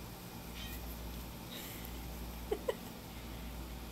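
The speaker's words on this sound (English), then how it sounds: "She meowed" A house cat gives two short, quiet meows in quick succession near the end, over steady low room noise.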